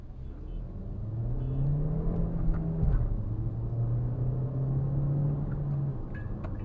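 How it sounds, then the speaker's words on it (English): A Kia Seltos petrol with a manual gearbox drones steadily from inside the cabin, its engine note dipping and resettling near the middle as a gear change happens, then holding a smooth hum. No voices. "So it kind of makes some amount of noise when you shift gears."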